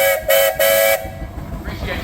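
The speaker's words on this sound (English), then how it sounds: "Any whistles, guys?" A steam traction engine whistle at a steam power show in Sycamore, Illinois gives three close, loud blasts, the last one longest, then fades into outdoor background noise.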